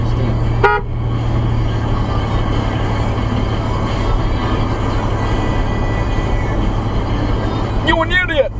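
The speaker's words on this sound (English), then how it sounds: "my horn sounds high pitched whenever it's cold" Car horn honking high pitched in cold weather, two short toots heard over steady loud road and engine rumble inside a moving vehicle, near and clear.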